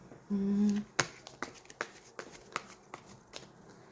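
Tarot cards shuffled and set down during a love-fortune reading: a brief tonal hum opens, then a sharp snap followed by a run of light, evenly spaced card taps and slaps, close and fairly quiet.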